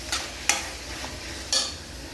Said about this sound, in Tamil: இது எல்லாத்தையும் நல்லா வதக்குங்க.